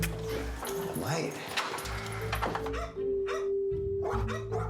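Dogs bark and whimper amid a busy scene, with sharp barks scattered over a steady tonal hum and background noise, mixed with people talking.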